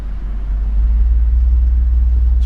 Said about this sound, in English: Do some sweeps, starting out at 15 hertz.